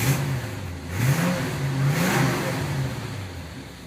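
A car engine idles low at about 700 rpm while parked, a steady rumble with slight rises in pitch, close and continuous with no talk.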